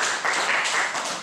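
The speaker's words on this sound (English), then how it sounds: "Would you like to give yourselves a round of applause?" An audience giving a round of applause, a dense, steady wash of many hands clapping together, fairly loud and close, lasting about a second with no talk over it.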